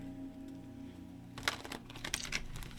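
Tarot cards are shuffled by hand in quick, crisp riffling bursts close up. The clicks start partway in over a quiet low hum, with no talk.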